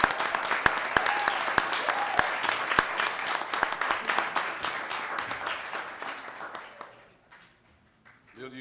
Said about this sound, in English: give you a hand clap